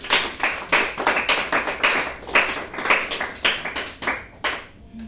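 Church congregation clapping to acclaim Jesus Christ during a French-language sermon, loud and close, in steady rhythmic bursts of hand claps that thin out near the end.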